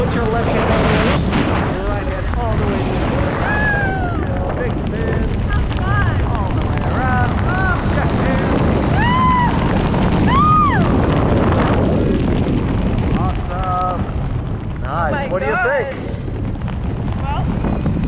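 A small airplane flies on after a skydive over Sebastian, its engine and wind drone loud and steady throughout, with voices talking over it.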